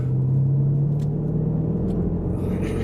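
A Range Rover SVR tuned by Urban Automotive driving at half throttle, a steady deep engine rumble heard from inside the car, loud and even with no clear rise in pitch, and no talking.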